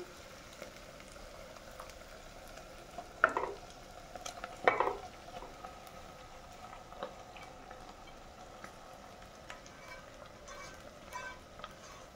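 Spinach, onion, meat and spices are sautéed in a pan, giving a faint, steady sizzle with a couple of brief stirring clatters early on and no talk.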